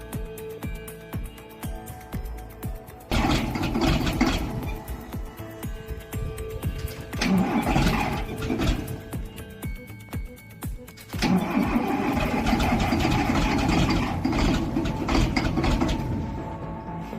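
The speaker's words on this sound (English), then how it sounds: "the LAZ 1833's engine faces a tough cold start, delayed combustion, and thick smoke. The engine struggles, sounding like a mechanical beast, choking and sputtering" A LAZ 1833 truck engine attempting a cold start at minus 10 degrees Celsius, with delayed combustion: loud bursts of cranking and sputtering turnover in several long waves, separated by brief pauses, no talk.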